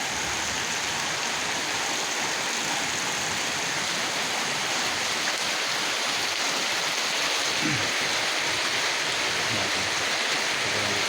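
Heavy rain pours outside during the rainy season near a home, with nearby flooding, a steady, dense hiss that continues evenly throughout with no pauses.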